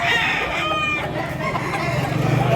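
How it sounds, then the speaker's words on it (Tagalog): A rooster clucks and calls in a farmyard in the Philippines, making several short bursts of vocalization close to the recorder. Faint background noise sits underneath, with no clear talking. "Gandang manok."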